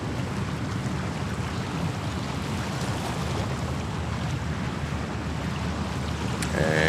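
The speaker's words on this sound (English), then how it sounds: "you can hear the water" Water waves lap and wash steadily near JFK Airport in Queens, New York, a continuous broadband surf rush with wind buffeting the microphone, close and fairly loud, no voices.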